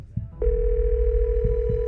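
A telephone dial tone, steady and loud, comes in after a brief click and runs unbroken to the end while a call is being placed, with a few soft thumps beneath it.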